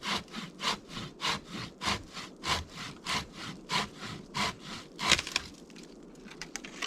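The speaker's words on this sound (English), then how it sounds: "It's a pull saw, so it only cuts on the pull stroke" A Japanese pull saw cuts through wood outdoors in a winter forest camp, with about fifteen even, rhythmic rasping strokes, close and clear, ending in a final crack as the cut finishes.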